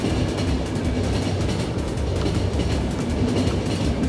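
A train rolls along rail tracks in the post-apocalyptic video game The Final Station, with a steady, loud rumble and continuous clatter of wheels that holds evenly throughout without any talking.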